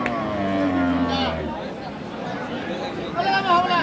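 A Sahiwal cow at a village cattle market gives a long, loud moo, followed by crowd babble and a second bellow, with nearby voices of traders around.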